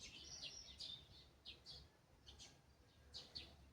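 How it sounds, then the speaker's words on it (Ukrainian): Faint birds chirp and tweet in short, scattered bursts over a quiet background, several calls repeating at a distance. "А пташки співають так радісно"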